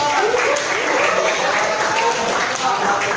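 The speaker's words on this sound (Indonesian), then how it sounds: "Wah, hebat, tepuk tangan." Classroom applause from a group of students, a dense steady patter of clapping filling the whole stretch at fairly loud level, with faint voices mixed in.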